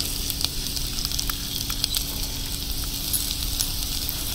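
Garlic sautéing in butter and olive oil for a drumstick soup, a steady close crackling sizzle with dense spitting pops throughout and no voices.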